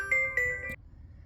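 A mobile phone ringtone for an incoming call, a short bright electronic chime melody of a few tones lasting under a second, then cutting off to quiet room noise.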